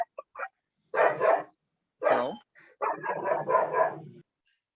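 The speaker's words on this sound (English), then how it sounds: "dog is barking over there." Outside a lecture, a dog barks in several loud bursts, some short and one longer run of rapid barks, after a brief spoken word.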